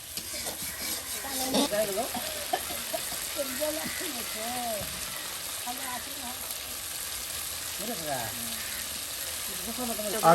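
Spices fry in a pan with a steady, close sizzle and the occasional scrape of stirring, while someone talks over the cooking.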